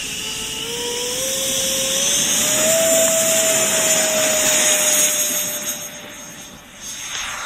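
A radio-controlled Jet Provost model jet with a powerful 90 mm electric ducted fan on an 8S battery takes off, its rising whine building and holding strong, then fading as it climbs away.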